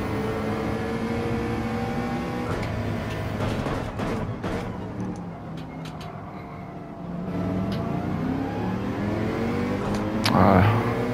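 A Mercedes race car in Gran Turismo 7 holds a steady, loud engine drone that rises and falls through gear changes, with a brief sharper rev burst near the end.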